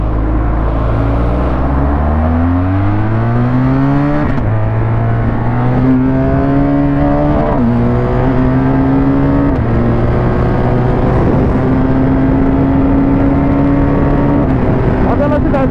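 A BMW R1200 motorcycle engine revs hard and accelerates toward high speed, its loud, close drone climbing in pitch through several stepped gear changes and holding a sustained roar.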